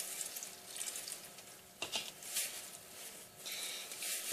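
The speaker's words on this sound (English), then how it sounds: "what you're going to want to do next is pour water in" Water poured into pancake batter for strawberry pancakes, a steady, moderately close splashing pour with a few brief swells, and no talk.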